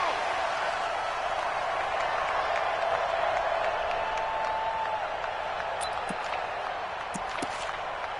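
A stadium crowd in the Madden NFL 20 football video game roars in a steady, loud wash at a Seattle Seahawks versus Carolina Panthers matchup, with a commentator talking over it.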